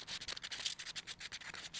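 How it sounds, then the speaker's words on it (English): Sandpaper lightly rubs back and forth against the back of an epoxy suncatcher piece in quick, steady strokes, close up and fairly quiet, with no talking. "take the sandpaper that is included in my kit, and on the back, I just want to sand it lightly"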